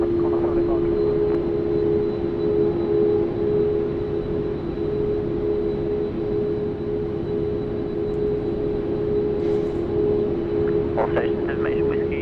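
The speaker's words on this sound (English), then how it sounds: "I do love the sound of a 767, so let's see if they spool it up for us" Qantas Boeing 767 freighter at Sydney Airport, jet engines spooling up for takeoff as a steady, loud, continuous roar with a sustained tonal whine, with faint talk in the background.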